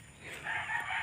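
Chickens in a garden give a brief clucking, crowing call. It is faint and lasts about a second.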